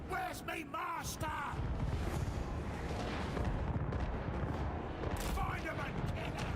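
Cannon artillery fire in the Warhammer 3 strategy game, a sustained booming barrage rumbling loudly and continuously under battle noise, with game voices heard speaking over the start and end.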